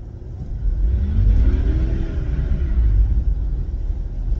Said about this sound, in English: you put your foot in it, it started burning out right now